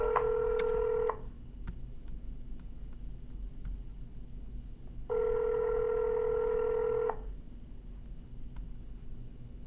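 Dialing tones of a live real estate cold call in the San Diego market, two separate bursts of steady multi-tone beeping a few seconds apart, clear and close over a low hum, with no one speaking.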